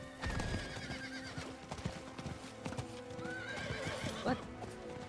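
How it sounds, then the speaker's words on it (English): A horse in the Diablo IV video game: hooves clip-clop in a steady rhythm alongside a neigh, set against game ambience and effects. "Plus, horse sounds."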